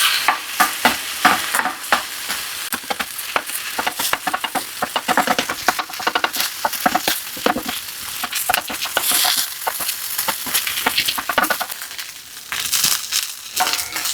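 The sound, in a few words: garlic fried rice being stirred and mixed in a pan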